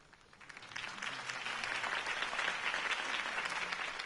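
Crowd applause at a political campaign rally in Batman: The Telltale Series, rising from quiet into a dense, sustained clapping that holds steady to the end.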